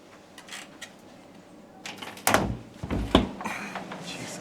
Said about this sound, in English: A lot of heavy doors here.